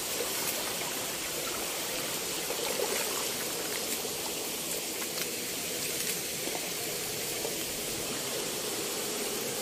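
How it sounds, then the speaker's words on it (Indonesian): A 20-metre forest waterfall roars steadily throughout, a dense, continuous rush of falling water heard close and loud with no voices. "Kita udah menemukan air terjun."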